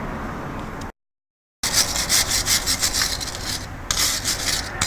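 A wire brush scrubs dirt off the filler plug on a Nissan Navara gearbox, close and loud in quick repeated rasping strokes, briefly interrupted by a gap of silence before the brushing resumes.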